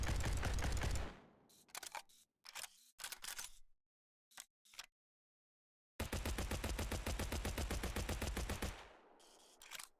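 Automatic fire from an M4 rifle in a video game: two long sustained bursts of rapid, evenly spaced shots, loud and close, with short choppy bursts and silent gaps between them.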